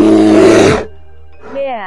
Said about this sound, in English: Bear.